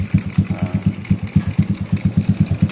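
A Honda Revo motorcycle engine idles close by after starting, with a steady, even thumping pulse and no talk over it.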